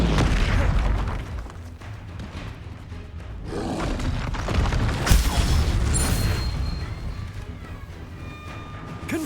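Confringo spell blasts in Hogwarts Legacy go off as loud booming bursts over a busy fight din. One stronger blast lands partway through, and the spellcasting continues around it.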